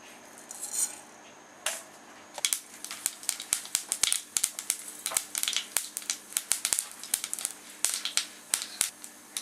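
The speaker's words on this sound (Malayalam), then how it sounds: "കടുക് പൊട്ടിക്കഴിയുമ്പോൾ" Mustard seeds pop and crackle in hot coconut oil, sharp irregular snaps that start sparse and grow quick and frequent.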